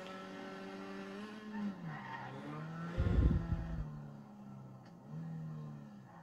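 Car tires skid and squeal as a stuck car in a driving game spins against an obstacle, a steady engine drone rising into one loud rough burst before settling.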